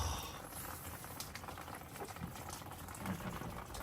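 Water pours and splashes steadily out of a failed air conditioner, a continuous close hiss and patter of liquid spilling and running down, with no voices.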